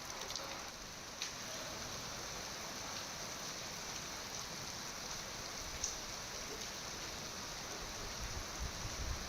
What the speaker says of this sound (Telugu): ప్రాంతాల్లో మోస్తరు నుంచి భారీ వర్షం కురుస్తోంది